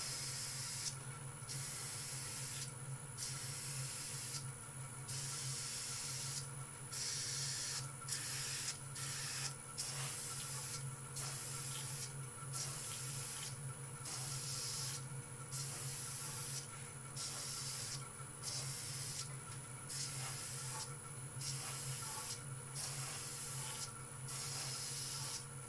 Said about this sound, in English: Now I'm going to spray the side, but this time I'm going to start this side going down.